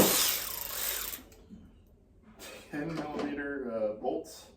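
Socket wrench backing out 10mm bolts on the steering of a 1992–1996 Ford F-150, a short burst of ratcheting clicks at the start followed by someone talking close by.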